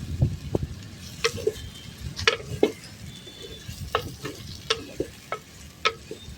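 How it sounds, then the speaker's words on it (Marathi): Onion sizzles and fries in a clay pot over a wood-fired stove, with a spoon scraping and stirring in irregular clicks and knocks over a steady hiss, close and fairly loud. "आता आपण कांदा परतून घेऊ."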